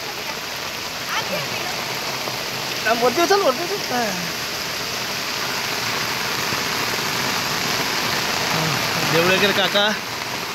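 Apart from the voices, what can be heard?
heavy rain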